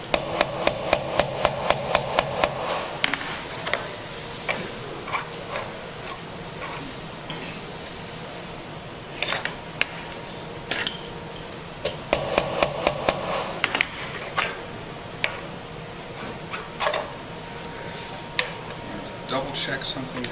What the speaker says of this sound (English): Make sure you don't hit your finger with the hammer.